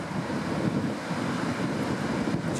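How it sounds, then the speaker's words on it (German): Wind gusts buffet the microphone at the seashore as ocean waves break and rush steadily in the background, a dense continuous roar with no speech. "Welle will nicht so richtig dick aufschlagen"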